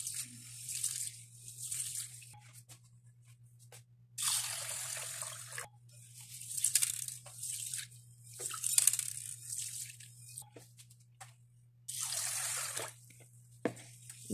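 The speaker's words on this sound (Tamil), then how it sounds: "இப்போ தண்ணி ஆட் பண்ணிவிட்டு நல்லா ஒரு 3 வாட்டி வாஷ் பண்ணிக்கிறேன்." Green gram (moong beans) and rice are swished and rinsed in water in a bowl, giving intermittent wet sloshing and trickling bursts separated by near-silent pauses over a faint steady hum.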